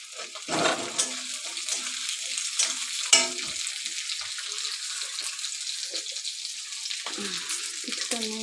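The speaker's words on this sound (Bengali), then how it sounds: "এখন আমি একে একে সব ভেজিটেবলগুলো দিয়ে দেবো, যেমন ক্যাপসিকাম, পেঁয়াজ, টমেটো সব আমি দিয়ে দেবো।" Capsicum, onion and tomato frying for chilli chicken, a steady close sizzle in hot oil with scattered stirring clinks and scrapes running throughout.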